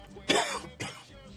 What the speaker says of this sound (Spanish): estoy muy afectado por la tos